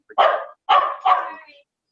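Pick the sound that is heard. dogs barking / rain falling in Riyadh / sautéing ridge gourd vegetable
dogs barking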